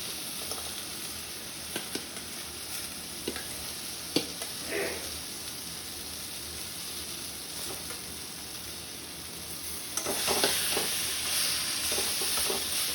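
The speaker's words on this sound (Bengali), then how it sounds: "সবজিগুলো একটু নাড়াচাড়া করে কত সুন্দর সবজিগুলো সঙ্গে মশলাগুলো মিশে গেছে" Fried vegetables stirred with spice paste in a pan, giving a soft continuous sizzle with scattered scraping strokes, growing louder and busier near the end; no talking.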